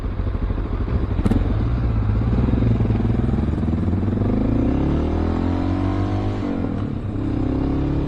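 Honda XR650L and Ninja motorcycles riding along roads, steady engine drone with rising and falling revs as they accelerate, loud and close with some wind and clatter.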